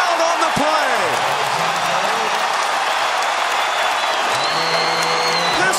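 A packed basketball arena crowd roars steadily for a Houston Rockets scoring record, with loud sustained cheering, scattered whoops and shouts, and a dense, continuous wall of noise throughout.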